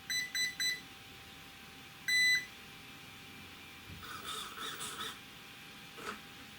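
An RC buggy's brushless ESC chirps right after power-on: three quick electronic beeps, a pause, then one longer tone, followed by faint rustling handling noises.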